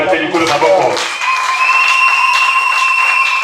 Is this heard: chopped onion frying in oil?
no